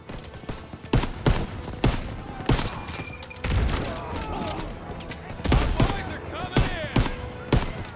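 Gunfire in the World War II shooter game Call of Duty WWII, repeated sharp loud shots in rapid irregular volleys with booming thuds and battle noise, close and dense throughout.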